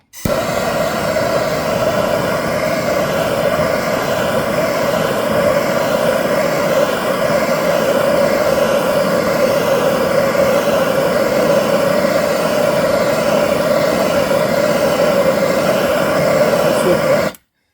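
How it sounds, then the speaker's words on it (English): A steady, loud roaring hiss of a torch flame annealing a bronze ring burns continuously up close for many seconds, then cuts off abruptly. "We're going to use the torch. This thing's going to be loud."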